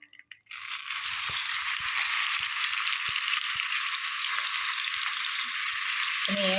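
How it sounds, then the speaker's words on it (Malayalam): Fish frying in a pan while cooking a prawn roast gives a loud, steady sizzle that starts abruptly after a brief quiet moment and holds continuously, with no talking. "മീന് വറുക്കാനിടാം"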